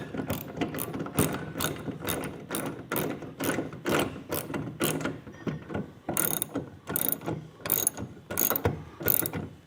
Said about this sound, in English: Using your 3/4 inch socket, you're gonna fasten your brackets to the inside of your bed.